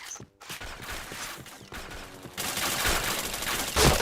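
Rapid bursts of gunfire from a multiplayer shooter video game, dense overlapping shots that grow louder and heavier partway through, with no talking.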